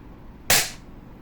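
A Double Bell VSR10 airsoft rifle fires a single 0.20 BB, a sharp close crack with a quick decaying tail against quiet background.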